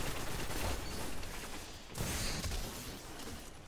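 Shotgun fire in Destiny: loud, dense bursts of blasts and impact noise filling the scene, with a surge around the middle and a steady roar of combat throughout, no talk.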